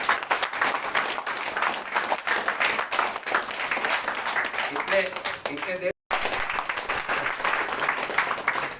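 Audience applause at a branch office meeting in Dhanbad and Jharia, brisk clapping from a gathered crowd running throughout with a momentary dropout, and someone speaks briefly over it.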